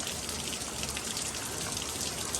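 Heavy rain pouring down during an intense atmospheric river storm, a dense, steady roar of drops drumming on surfaces close by, loud and unbroken with no voices.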